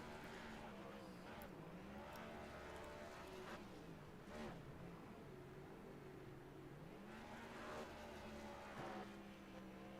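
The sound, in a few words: race car engine spinning donuts in iRacing video game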